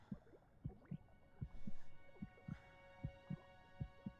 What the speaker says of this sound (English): I can still hear my heartbeat.